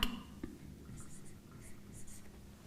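Colored markers writing on a board, heard as faint, brief squeaky strokes in short bursts under quiet, close surroundings.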